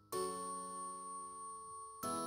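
A notification bell sound effect rings out as a bright, sustained chime that decays slowly over about two seconds, then strikes again at the end, clean and alone.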